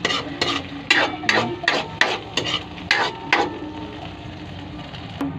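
Sardines sautéing in a pan with a steady sizzle, while a utensil scrapes and stirs in about a dozen rhythmic strokes that fade toward the end, close and loud.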